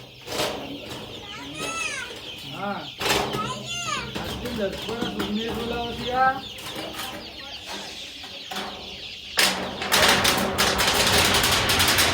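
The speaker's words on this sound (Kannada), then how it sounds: "ಕೋಳಿ ಮರಿಗಳನ್ನ ಬಿಟ್ವಿ ಒಳಗಡೆ." Country chicken chicks just released into a village farm shed give many rapid high cheeps and peeps up close, chirping over one another in busy bursts, with some rustling and a loud scraping burst toward the end.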